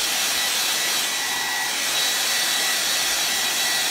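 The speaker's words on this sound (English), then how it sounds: "Let me hit this with a blow dryer" Steady, loud blow dryer whooshing without pause while drying a DIY home decor craft piece, a constant broadband airflow roar with no talking.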